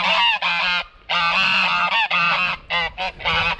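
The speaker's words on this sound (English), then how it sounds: "Oh, look at the lovely geese." Geese honk loudly and close, a series of harsh, repeated calls in uneven bursts with short gaps between them.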